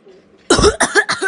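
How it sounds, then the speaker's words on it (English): A person in a Covid-19 character skit coughs in a burst of several harsh, loud coughs close to the mic, one long hack followed by two shorter ones. "Why am I coughing?"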